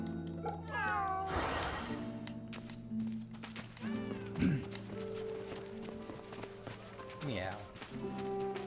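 A cartoonish cat meows several times, spaced apart, over steady game music and light clopping footsteps in Fate/Samurai Remnant, with some talking in the background.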